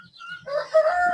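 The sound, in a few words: chickens clucking and rooster crowing on free-range farm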